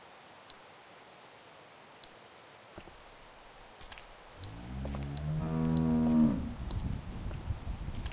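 A cow moos in a farm video game, one long, loud, low bellow rising out of quiet ambience with a few faint ticks before it.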